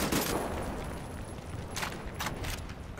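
Scattered gunfire from the video game Wolfenstein: The New Order crackles faintly in a few sharp bursts against a steady noisy backdrop, with no voices.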